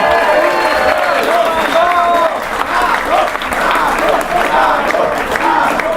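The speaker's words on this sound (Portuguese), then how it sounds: "Palmas, pessoal da Rádio Brado." A crowd at a political event in Salvador applauds loudly and continuously, dense clapping mixed with cheering and shouted voices throughout.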